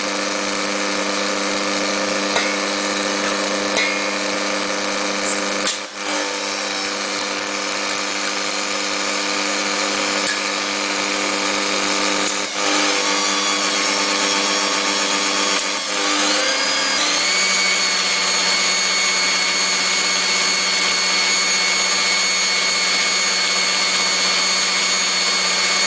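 An electric mixer creams butter and sugar for vanilla cupcake batter, giving a steady motor whine that runs for the full length and shifts pitch partway through as the speed rises.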